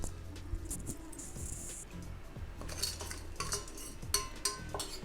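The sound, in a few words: stirring vegetable curry in a pan with a spoon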